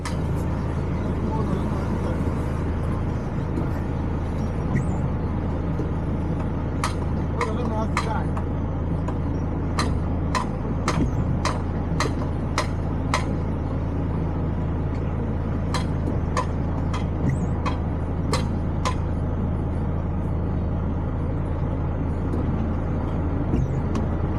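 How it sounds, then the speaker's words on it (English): Trucks idle and move in busy road traffic with a constant low engine drone, while a string of short, sharp hissing bursts like air brakes comes in clusters over the middle of the stretch. "There's trucks everywhere."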